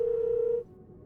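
A phone in a video game gives one steady dialing tone lasting about half a second, then cuts off to quiet background hum.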